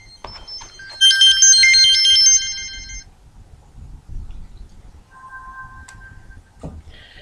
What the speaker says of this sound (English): sorry, I'm getting phone calls and I have to disconnect it